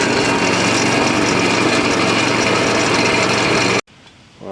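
A NOMA 8hp snowblower engine runs loud and close in the yard, a steady buzzing drone with a faint rattle, stopping abruptly near the end.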